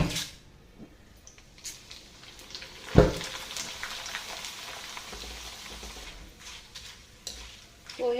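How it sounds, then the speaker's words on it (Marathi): Poha (flattened rice) dropped in small batches into hot oil, fizzing and crackling in a soft, patchy sizzle with a sharp splash-like burst near the middle and bits of stirring scattered through. "हे पोहे अगदी तळायला हलके अगदी लगेचच तळून निघतात थोडे थोडे टाकून घेऊया"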